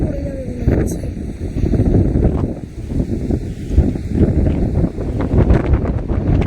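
Strong wind buffets the microphone in a steady, loud roar on the beach at Mandarmani, with rumbling gusts and no clear voices.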